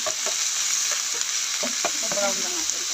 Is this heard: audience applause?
no